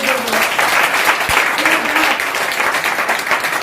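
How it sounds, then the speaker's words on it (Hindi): Loud sustained applause from a crowd at a marketing business meeting, thick even clapping with a faint voice briefly underneath near the start. "तेरे लिए ताली हो जाए, जोरदार ताली के साथ"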